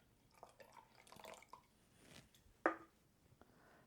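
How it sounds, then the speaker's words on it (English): Seltzer is poured into orange juice in a glass, producing faint, close trickling and small drips with a quiet fizz and a brief splash near the end. "And now we'll add a mere 50 mils of seltzer."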